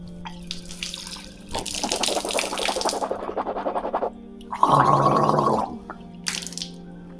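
Tap water runs into a sink while a mouth is rinsed during wudu ablution, with bursts of swishing and sloshing water and a louder gargling rinse near the middle, all close and with no talk.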